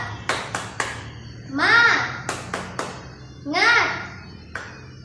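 A class of fifth-grade children in an elementary school classroom claps in quick sets of three sharp hand claps, alternating with the children chanting together in unison, close and fairly loud.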